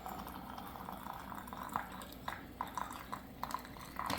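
Hot water being poured from a kettle or pot into hot canning jars during home pressure canning of soup beans, a soft continuous liquid stream with occasional light clinks of glass, fairly quiet.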